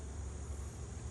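Honey bees inside a hive on a cold late-autumn day as the colony seals up for winter, a low steady drone with faint buzzing, close and continuous.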